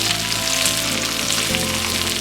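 Hash brown patties sizzle in grease on a hot Blackstone griddle, a steady, dense, close frying hiss that holds without a break and with no voices over it.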